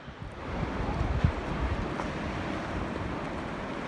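Strong wind gusts buffet the microphone on a clifftop above El Matador State Beach in Malibu at sunset, a steady low roar with surging peaks and a faint surf wash underneath.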